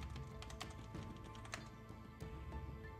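Computer keyboard keys clatter in quick, uneven bursts while someone plays the strategy game XCOM, with a few sharper clicks standing out over a steady background hum.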